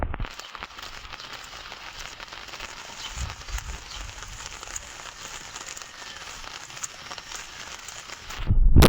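Steady rain pattering on a surface, a continuous dense hiss with faint crackles running throughout, ending in a brief louder bump.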